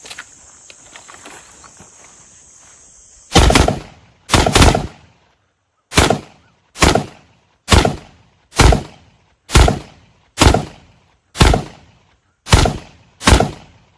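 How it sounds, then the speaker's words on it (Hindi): A handgun fires in a rapid string of about ten sharp, loud shots, spaced roughly a second apart, after a quiet stretch with a faint high whine and small handling noises. "थोड़ा सा हम इसको रैपिड फायर करके टेस्ट करते हैं जरा"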